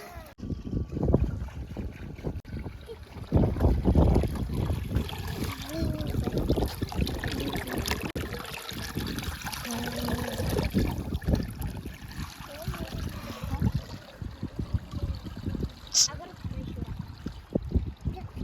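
Water pours and gushes steadily as a motor pump drains a pond, a continuous rushing flow with voices talking over it.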